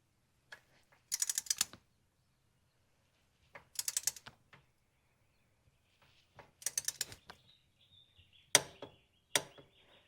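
Bolts are tightened on the belt tensioner of a V6 Ford Mustang, 2005–2010 model. Several short bursts of rapid ratchet clicking come close and fairly quiet, separated by pauses, with a couple of sharper metallic knocks near the end.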